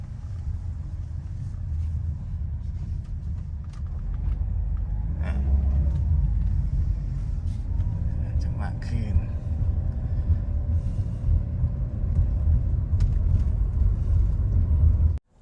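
A few brief creaking squeaks from a Toyota Veloz steering wheel as it turns, heard over a steady low engine and road rumble inside the car.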